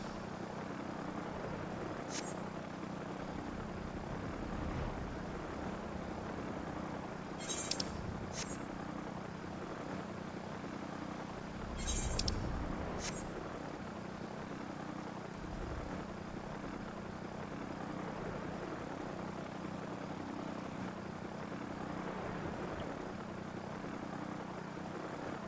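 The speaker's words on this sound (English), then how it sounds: "Nothing like having a chopper." A helicopter flies steadily in the Final Fantasy XIV game, giving a continuous low rotor-and-engine drone for about 25 seconds, with a few brief sharp chirps layered on top.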